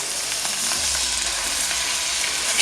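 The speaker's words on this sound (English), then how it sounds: "In we go with the chicken breast." Large chicken breasts sizzle steadily in a pan over medium heat, a loud continuous frying hiss with faint stirring or shifting sounds, no talking.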